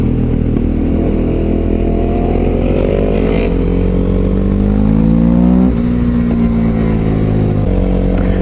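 Nearby motorcycle engine revs loudly and steadily, its pitch rising gradually, then dropping sharply before settling into a sustained drone, with no talking.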